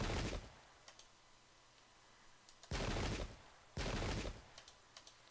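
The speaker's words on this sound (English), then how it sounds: "shots going back and forth over here" Musket volleys in the battle game Pike and Shot, set at the Battle of Yorkshire: two loud, sustained bursts of massed gunfire with crackling shots scattered between them over a faint ambient hum.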